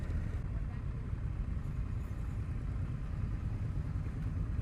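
Indian FTR Rally motorcycle rolling along at low speed, a steady low engine rumble with constant loudness and no clear revs, close by.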